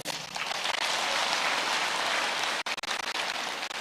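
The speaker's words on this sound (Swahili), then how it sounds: "mumejaribu sana, mjipigie makofi" A church congregation applauds with dense, steady clapping that stays loud and even for nearly three seconds, then breaks into a few sharp drops before picking back up.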